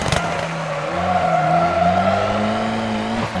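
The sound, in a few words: rally car handbrake turn skidding in video game WRC 2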